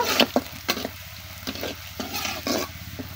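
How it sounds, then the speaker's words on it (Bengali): Onion frying in a pan until browned, with a steady sizzle broken by rhythmic scraping strokes of a spoon roughly every half second, close and clear. "পেঁয়াজটাকে লাল করে নিব।"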